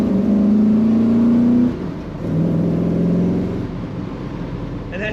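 A 1959 Chevrolet Bel Air with a four-speed manual transmission revs hard in one gear, drops briefly as the driver shifts, then pulls again with a loud, close engine roar.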